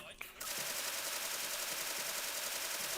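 Heavy machine gun fire in the military shooter game Special Force, a dense continuous burst starting after a brief pause and holding steady and loud to the end, with no pauses between rounds.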